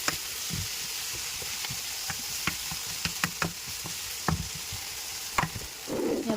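Ginger garlic paste sizzles in a pan for a chicken curry while a spoon stirs it, giving a steady frying hiss punctuated by occasional knocks and scrapes against the pan, with no talking.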